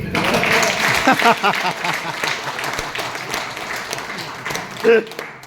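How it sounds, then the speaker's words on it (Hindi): Applause from a seminar audience, scattered clapping mixed with a voice talking over it, moderately loud and uneven, tapering toward the end. "ताली होना चाहिए"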